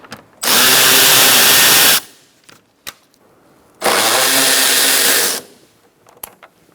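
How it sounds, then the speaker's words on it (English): Two loud, close bursts from a power driver, each about one and a half seconds long with a short pause between, as a T30 screw is backed out on a 2012-2018 Ford Focus front bumper, with faint clicks around them. "Using a T30, we're going to remove the headlight assembly."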